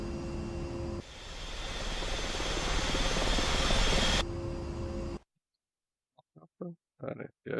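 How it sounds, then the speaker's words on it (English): A military helicopter in the DCS flight simulator game roars steadily for several seconds with a loud whirring rotor and engine drone, then cuts off abruptly, followed by brief quiet bursts of sound. "What kind of fucking helicopter are we dealing with?"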